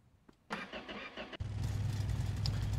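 A truck engine running on used vegetable oil cranks briefly, then catches and settles into a steady low diesel idle, close and moderately loud.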